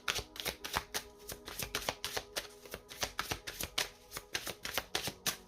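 Oracle cards are shuffled by hand in quick, rhythmic riffles, a steady run of crisp paper slaps and flutters heard close and quiet, with no talk.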